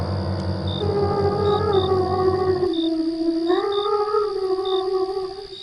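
A girl's eerie humming drifts from just behind a tent on a riverbank at night in a horror story, a wavering sung tone over a droning backing with faint high pings, steady and fairly loud.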